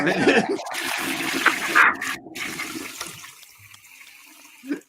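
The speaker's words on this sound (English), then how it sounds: "Give us the toilet flush or something" A toilet flush sound effect plays during a live stream, a loud rushing surge of water that churns for several seconds, then tapers into quieter trickling and refilling with a brief final gurgle.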